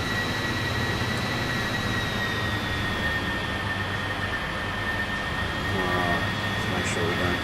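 Aircraft engine in Microsoft Flight Simulator, a steady loud drone with a sustained high whine that holds throughout, continuous and even with no breaks.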